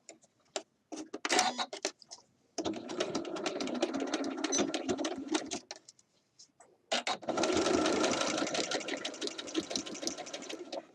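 A sewing machine stitching a Simplicity 8014 shirt dress, with a few short stop-start bursts of rapid mechanical whirring and ticking, then two longer, steady runs up close, with no talk.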